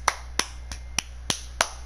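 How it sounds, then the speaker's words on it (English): Six sharp, evenly spaced claps, about one every third of a second, sound close and dry in a Marvel Spider-Man animated cartoon scene, honouring an officer before a mayor. "Break for applause."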